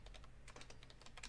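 Fingers tap out quick, uneven keystrokes on a computer keyboard, a soft clicking patter close by and faint, with no talking.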